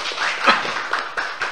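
A few scattered hand claps in a radio studio during an interview, sharp uneven slaps spaced irregularly over a short stretch at moderate loudness.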